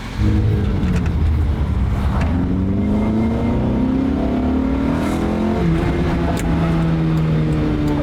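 Engine of a classic 1980s Honda CRX Si accelerating while driving, revving up through the range with rising pitch, a brief shift, then climbing again, loud and close from inside the car.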